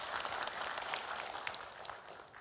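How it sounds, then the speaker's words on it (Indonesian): An audience at a regional election public debate gives a short, moderately distant round of applause, even and sustained with no voices over it. "Boleh tepuk tangannya?"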